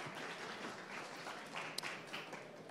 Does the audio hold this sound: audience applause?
yes